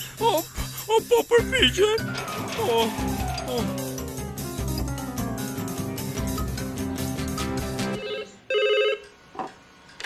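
A telephone rings in a Bob the Builder cartoon dubbed in Albanian, a bright repeated bell over a busy music score, with a short voice near the end.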